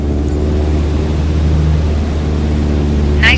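Steady low drone of a light training aircraft's engine throttled back to 2,300 RPM, a constant harmonic hum filling the cabin with even loudness throughout, no voices over it.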